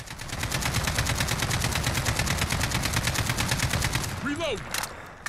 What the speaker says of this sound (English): let's go ahead and test out the AK-15 and take a look at the recoil pattern